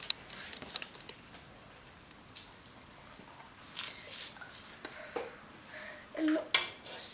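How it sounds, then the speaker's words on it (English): Lentil soup ingredients with bay leaves being mixed in a pot: quiet scraping and light clinks of a utensil against the pot, with a few louder knocks toward the end and no voices. "And you're going to want to mix."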